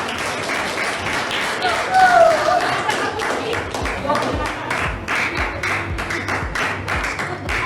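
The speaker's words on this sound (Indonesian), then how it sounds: "Jika tepuk tangan untuk Jonathan." Classroom applause for a student, a dense burst of many hands clapping across the whole stretch, fairly close and steady, with some background chatter mixed in.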